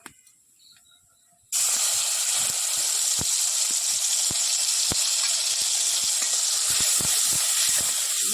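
Spice paste with dried red chillies and cumin seeds dropped into hot oil, bursting into a loud, steady hiss and sizzle after a quiet moment, with occasional small pops throughout.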